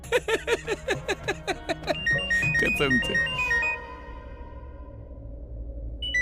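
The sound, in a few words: mobile phone ringtone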